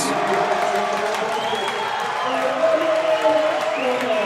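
A basketball crowd at a Yellow Jackets versus Washington Adventist men's game cheers and whoops after a huge three-pointer, a steady, dense roar of many voices filling the arena, with whistles and shouts rising and falling throughout.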